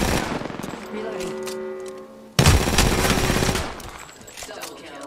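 Automatic gunfire from the Apex Legends video game, rapid bursts of shots with a louder, closer barrage midway, weapon clatter and game effects around it.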